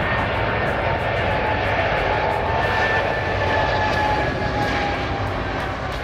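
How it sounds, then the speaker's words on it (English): Boeing 777-200LR passenger jet engines give a steady broad roar with a faint tonal whine running through it, continuous and fairly loud from start to finish. "Boeing 777-200LR, known as the world's longest range commercial aircraft"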